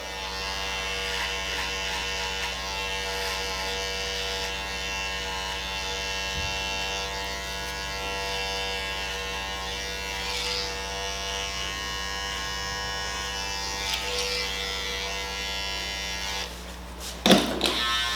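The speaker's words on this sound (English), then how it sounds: "this is my first guideline with the Wahl Senior, lever open" A Wahl Five Star Senior clipper with adjustable blade, lever open, runs at a steady close electric buzz throughout while cutting hair, with a brief clatter near the end and no talk.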